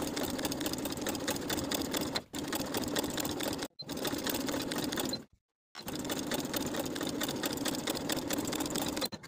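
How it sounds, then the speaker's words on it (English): A sewing machine topstitches straight across a shirt yoke seam in a steady, rapid mechanical whir, running in long close bursts separated by short pauses. "I'm going to top stitch on the yoke side of the garment straight across from side to side"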